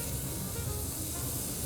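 Steak searing in a cast iron pan, a short burst of steady, loud hissing sizzle with fine crackle, close and uninterrupted.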